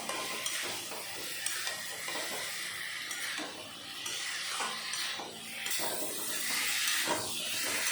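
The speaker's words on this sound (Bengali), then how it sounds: "এখন আমি জলটা ভালো করে টানিয়ে কষিয়ে নেব" Fish and kohlrabi curry sautéing in a pan as its water cooks off, a steady close sizzle and hiss broken by repeated scraping stirs, with no talk.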